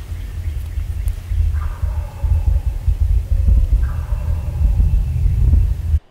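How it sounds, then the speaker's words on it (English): Wild turkey gobblers gobbling twice, fairly distant, as two brief rattling bursts over a steady low rumble of background noise. "the gobblers will fire off on the limb for 30 minutes in the morning"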